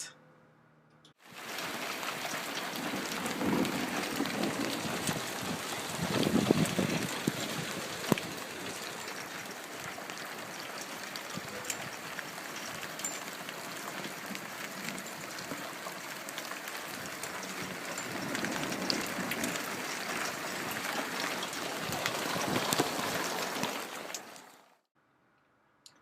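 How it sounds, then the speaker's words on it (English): A hail storm sound effect in an animated story: dense, steady pattering and hissing of falling ice that swells and eases over about twenty-five seconds, then stops abruptly. "the giant, who wasn't even invited to the show, made it start to hail, and they all ran inside to be safe"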